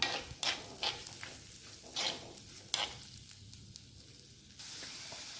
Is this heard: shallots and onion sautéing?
yes